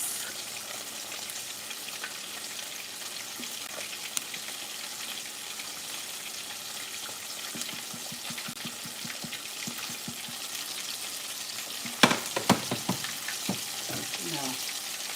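Grits cooking in a pot, with a low steady simmering hiss throughout, then a cluster of scraping, knocking stirring strokes against the pot near the end.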